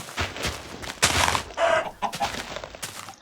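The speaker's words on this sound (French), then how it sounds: "Ouais, un poulet." A chicken in a video game, heard as a run of clucks and squawks over about three seconds, fairly loud and close, with no talking over it.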